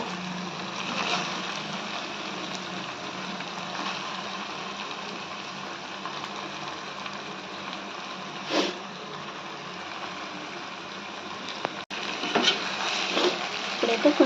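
Fish pieces frying in a pan of oil for Andhra fish curry (chepala pulusu): a steady, moderate sizzle runs throughout, with occasional clinks and stirring sounds from the pan.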